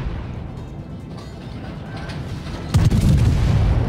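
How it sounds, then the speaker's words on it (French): A warship's main guns fire in the naval game World of Warships, a heavy booming salvo arriving near the end after a low rumbling stretch, loud and close. "Parce qu'à cette distance-là, les canons sont assez redoutables."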